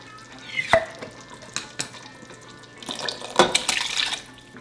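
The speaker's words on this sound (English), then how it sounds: "I'm gonna go ahead and add a quart of diced tomatoes." A quart of diced tomatoes goes into a thick pork-and-bean chili, landing with a few wet plops and splashes, then stirred with sloppy, liquid scraping in the pot; short, near bursts with quiet gaps, no talking.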